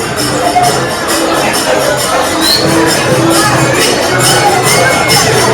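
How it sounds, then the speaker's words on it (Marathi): A dense crowd inside the Tulja Bhavani temple in Tuljapur, a steady loud roar of massed voices and shuffling with faint cheering, continuous and close throughout. "आतमध्ये जवळ कसला जल्लोष आहे"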